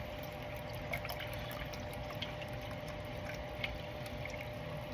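Liquid pours steadily into a measuring cup in a continuous trickling stream, close by, with faint clinks and no talking, while making hot sauce.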